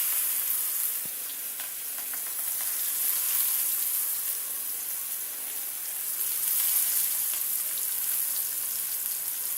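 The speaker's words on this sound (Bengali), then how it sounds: "দিয়ে দেবো গরম তেলে কালো জিরে, দিয়ে দেবো পেঁয়াজ কুচো" Nigella seeds and chopped onion sizzle steadily in hot oil, a dense, close frying hiss with faint stirring clicks and no talking.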